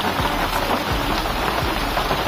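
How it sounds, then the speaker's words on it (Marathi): Heavy monsoon rain in Konkan pours down steadily in a dense, continuous roar, with low rumbling thuds underneath; no voices. "कोकणात पावसाची खूप धमालदार सुरुवात झालेली आहे"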